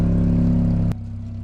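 An old Japanese car engine idles with a low, rough hum, then the pitch drops abruptly as it shifts into reverse, settling into a quieter rumble, close by.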